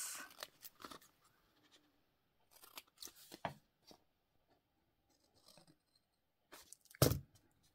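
Scissors snipping through material for a handmade doll, a few separate close cuts spaced out with pauses between them, ending in one louder, sharper snip.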